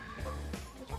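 Rhode Island Red layer hens cluck at close range in a farm chicken house, a few short throaty calls over a steady low background.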